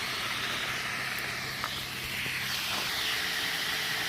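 A steady hiss with faint bubbling of molten iron ore still simmering after smelting, constant and moderately quiet throughout with no voices.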